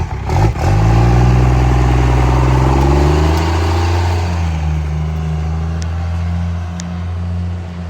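A loud drag truck engine revs up hard and roars, then settles into a deep, steady rumbling idle, close by and continuous.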